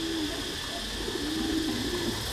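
Thai meat-breed pigeons coo on a farm, a low steady run of soft throaty calls that rise and fall continuously over a constant background hum.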